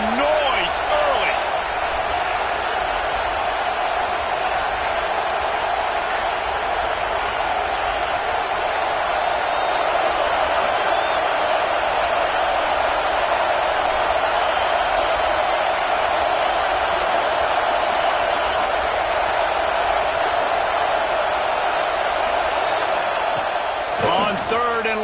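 Stadium crowd roar from a college football video game, USC versus Clemson, a steady, loud wash of noise that holds unbroken throughout without commentary over it.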